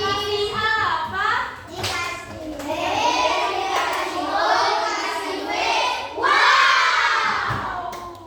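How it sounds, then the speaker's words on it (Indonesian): A classroom of students doing a clapping cheer together, loud and close, with many young voices shouting and whooping over rhythmic hand claps in an energetic burst. "Beri tepuk tangan."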